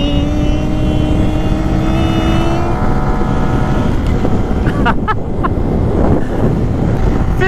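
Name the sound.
Kawasaki KLX300SM motorcycle engine at full throttle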